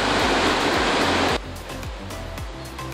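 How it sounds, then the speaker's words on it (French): The glacier-fed, three-tiered Krimml waterfalls in Tyrol, Austria, heard from a viewpoint at 1,460 metres within their spray. A loud, close, broadband roar of falling water drops sharply in level partway through, leaving a lower rushing wash under a faint low hum. "Et là, déjà, on se reçoit les postillons de la cascade."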